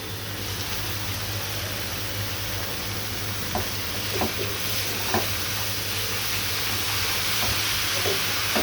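Chopped radish greens and fried onions stirred in a hot pan, giving a continuous sizzle with several distinct scraping clicks of the spatula spaced a second or so apart.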